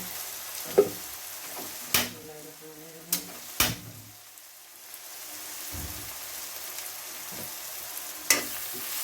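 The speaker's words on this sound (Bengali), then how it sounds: "আবার পেঁয়াজগুলো নাড়িয়ে দিতেছি, একটু গোল্ডেন কালার হোক, পেঁয়াজটা নরম হয়ে যাক" Onions frying in hot oil in a pan at home, with a steady soft sizzle and several sharp scraping knocks of a spoon stirring, close and fairly quiet, with no talking.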